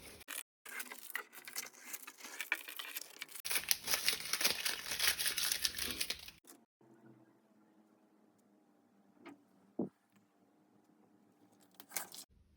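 Adhesive tape peels off a drawing during therapeutic painting. A crackling, tearing rustle runs for several seconds and stops, followed by quiet handling with a few brief knocks.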